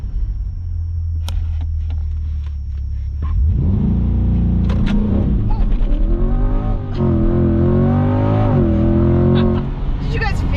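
A 2021 Chevrolet Corvette Z51 sits idling with a low rumble, then launches hard under launch control, the engine climbing through rising revs with a shift, as cold tires fight for grip; a voice speaks over the start.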